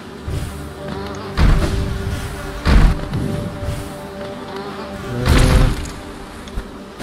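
Buzzing bees in the video game Hollow Knight: loud, continuous insect drone with several heavy thuds and bursts, swelling and fading as the swarm moves close.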